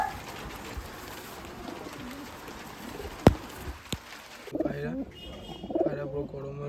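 Pigeons coo quietly nearby in a few soft, throaty bursts toward the end, after a stretch of low background hiss and a couple of sharp knocks.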